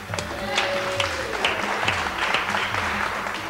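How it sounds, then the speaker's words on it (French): A studio audience on a 1992 French children's TV game show applauds steadily in a dense, even burst of clapping, with a voice and music faintly underneath. "On les applaudit."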